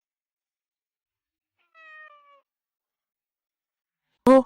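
A cat gives one short, soft meow, followed by silence and a brief, sharper sound near the end.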